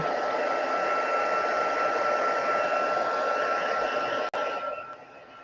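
A hair dryer blows steadily and loudly over a scrapbook layout, then switches off near the end, leaving a fading whine and room hiss.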